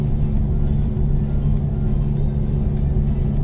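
Steady engine rumble of a car in a driving simulator game, low droning hum with slight fluctuations, moderately loud with no voices.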